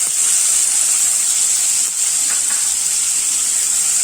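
Chopped onions sizzle in hot oil already holding cumin seeds in a kadai, for a North Indian style okra gravy. The frying hiss is loud, close and steady throughout, with no speech over it.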